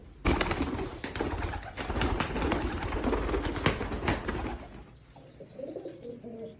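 Pigeons in a loft keep up a dense mix of cooing, calls and wing flutters, loud and close through most of the stretch, then quieter in the last seconds.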